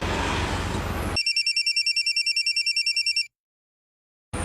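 On an outgoing call, a handset gives a rapid trilling ring tone that repeats in quick regular pulses for about two seconds and then stops, leaving a pause of silence before background sound returns.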